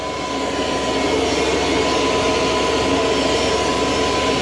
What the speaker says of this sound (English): There is another jet beside me running